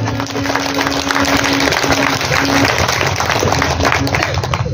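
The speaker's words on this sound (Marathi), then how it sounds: "त्यामुळे टाळी वाजवणं खूप गरजेचं." Audience applause at a folk-song program during a book festival, a steady, dense wash of many hands clapping together for the full stretch, loud and even, with a faint voice briefly audible within it.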